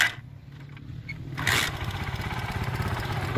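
A manual-clutch motorcycle being practiced on starts up and revs, its engine catching into a steady, close mid-pitched throb that rises in loudness partway through.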